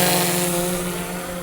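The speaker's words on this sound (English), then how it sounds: "Such a cool looking drone" An XDynamics Evolve drone flies nearby, its propellers making a loud, steady droning buzz with a constant tone that eases slightly in level, with no other sounds.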